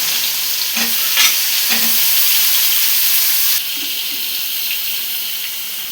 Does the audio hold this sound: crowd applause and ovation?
no